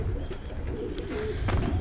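A racing pigeon coos softly in a few low, throaty notes, close and fairly quiet over faint background noise.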